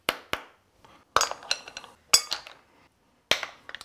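Cleaned mussel shells drop into a salad bowl, giving several sharp, close clinks in quick bursts separated by brief silent pauses.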